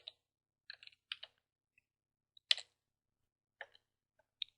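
A short command is typed on a computer keyboard at a Linux terminal: a handful of light, sparse key clicks in small irregular bursts, close and quiet against near silence.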